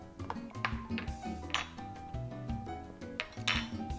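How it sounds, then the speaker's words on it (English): A spoon stirs homemade lemonade made with fresh lemons, producing a steady run of light clinks and pings against the container that continue throughout, with no talking. "Give that a stir."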